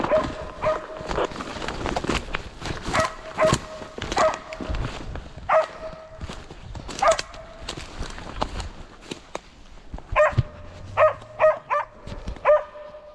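A hunting dog barks repeatedly at uneven intervals during a wild boar drive hunt in a forest, sharp and fairly close, with rustling movement between barks.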